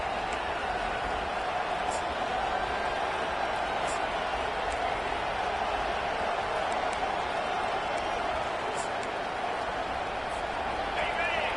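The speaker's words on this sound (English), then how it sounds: "This crowd, full throat, splitting the eardrums" A football stadium crowd at an Alabama game roars continuously, a loud, dense wall of cheering that holds steady from start to finish.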